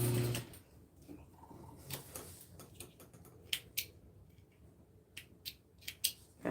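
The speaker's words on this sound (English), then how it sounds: "I'm going to machine sew the lower part of this push-up pad to that side flat" A sewing machine stitching a push-up pad onto a flat fabric piece gives quiet, intermittent ticking and clicking in short bursts, fairly faint and close.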